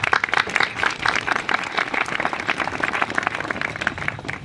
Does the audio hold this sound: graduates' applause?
yes